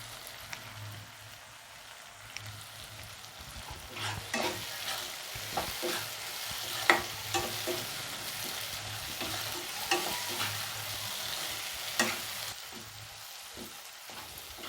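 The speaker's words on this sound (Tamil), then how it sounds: "இப்போ நம்ம கருவேப்பிலை போட்டுக்கலாம்." Curry leaves fry and crackle in hot oil as they are stirred in a pan for prawn thokku, a steady close sizzle broken by scraping stirs and scattered pops.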